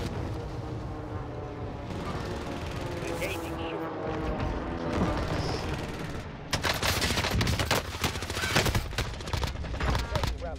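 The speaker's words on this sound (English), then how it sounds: "Shit, under heavy fire here." Heavy gunfire in Call of Duty Warzone on Caldera, including a Cold War AK-47, with dense overlapping bursts and volleys that grow sharper and louder toward the end while voices talk over the fighting.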